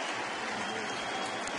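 A baseball crowd giving a batter a standing ovation at a San Francisco at St. Louis game, steady distant applause and cheering rolling on without a break, with no talk over it.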